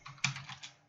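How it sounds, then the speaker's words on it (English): A brief, quiet burst of computer keyboard typing, a few quick soft keystrokes clustered together at close range, as a command is entered during a networking lesson. "What we basically do is type enable"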